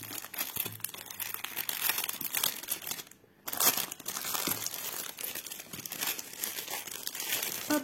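Plastic wrapping on a diamond painting kit package crinkles and tears as it is opened, continuous close crackling with a brief quiet gap midway, no talking.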